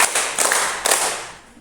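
A group of workshop participants clap in unison on a count, three sharp collective claps spaced apart, close and crisp, trailing off into quiet room tone.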